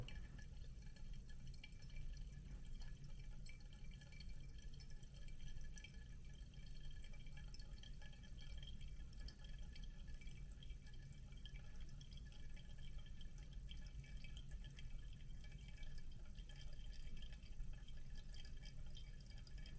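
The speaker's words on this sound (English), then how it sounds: "now that we've hit the 110 mark, we're going to start pouring more on the outskirts" Water poured in a thin, steady stream over coffee grounds in a Hario V60 cone dripper, a soft continuous trickle and hiss lasting throughout with no talk.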